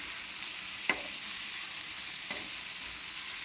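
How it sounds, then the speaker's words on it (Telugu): Food being stirred and mixed in a hot pan with amchur powder added for Ramadan iftar dishes: a constant soft sizzle with two brief scraping strokes of a utensil against the pan, no talking. "మొత్తం బాగా కలుపుకోవాలండి"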